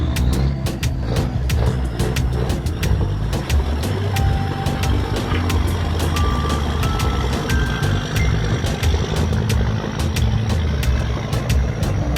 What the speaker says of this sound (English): The truck's engine works at full power, slowly pulling the massive load uphill.